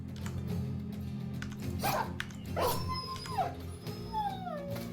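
War dogs in the Battle Brothers video game yip, whimper and howl during combat, several short canine cries and a falling whine over a low game background.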